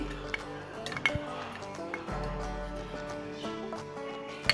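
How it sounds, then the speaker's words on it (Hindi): Garlic paste going into oil in a pan, with metal utensils clinking and knocking against the cookware in a few close, light taps over a low background hum, no talking. "अब इसमें लहसुन की पेस्ट डालूंगी"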